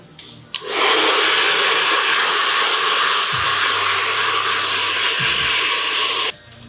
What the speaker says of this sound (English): So I'm just going to blast any loose hair out